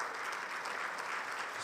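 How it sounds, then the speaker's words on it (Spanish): Church congregation applauding during a sermon, a dense steady wash of clapping from many hands, sustained at even loudness with no gaps. "Dele un aplauso al Señor por eso."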